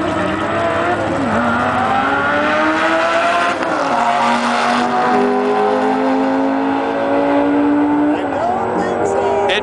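A Lamborghini Gallardo SE drag races a modded Ferrari 360 Challenge Stradale at a dragstrip, with loud, sustained engine roars that climb in pitch through the gears, shifting several times across the run.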